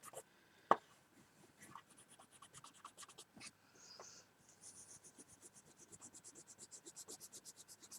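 Colored pencil scratching across paper while colouring, soft and close, with one sharp tap early on and then steady rhythmic strokes that grow more regular toward the end.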